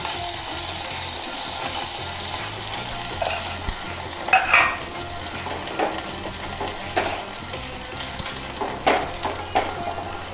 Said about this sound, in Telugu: కొంచెం కారం తాలింపులో వేద్దాం